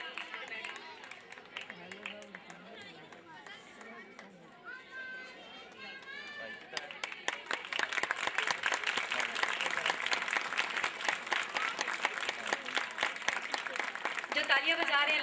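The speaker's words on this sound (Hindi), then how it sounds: "जो तालियां बजा रहे हैं लगता है वाकई उनको दिली खुशी हुई है" A school annual programme audience at a prize-giving claps for the winning children, starting under talk and then swelling into loud, sustained, close applause.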